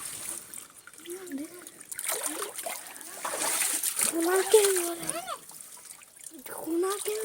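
Very cold, clear water splashing and trickling close by, with voices talking over and between the splashes.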